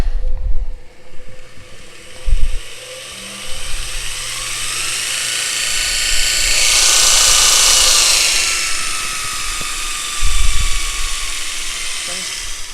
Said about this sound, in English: So now you're ready to fire up the motor.